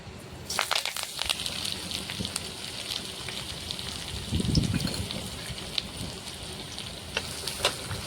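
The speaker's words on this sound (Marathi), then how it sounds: "तेल पण गरम झालेलं आहे। ते आपण कांदा आणि कढीपत्ता घेतलेला आहे तो टाकायचा आहे।" Onion and curry leaves hit hot oil in a pan, giving a continuous close sizzle and spatter with small crackles throughout.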